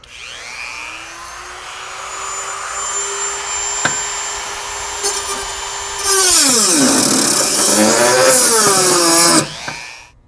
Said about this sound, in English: see if I can use a Dremel to cut these off on the inside here